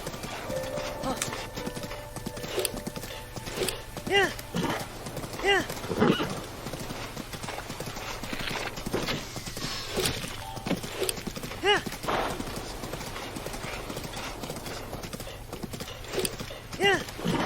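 Steady clip-clopping of horse hooves in The Legend of Zelda: Breath of the Wild, a continuous rhythmic trot in front, with an occasional whinny and game ambience around it.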